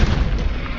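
Confringo, the fiery explosion spell from Hogwarts Legacy, goes off as a single deep, loud boom with a dense low rumble that holds steady for under a second, filling the frame with no voices over it.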